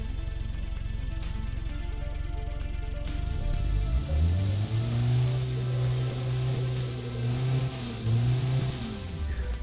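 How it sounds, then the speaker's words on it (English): A 100-horsepower car engine starts up partway through and settles into a steady, smooth running hum with a clear tonal drone, loud and close after a noisy lead-in. "The engine is running very smooth."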